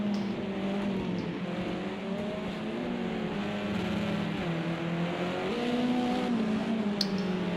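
Race car engine from the Project CARS 2 racing game droning steadily along the back straight at Circuit of the Americas, a continuous loud whine that shifts pitch with gear changes throughout.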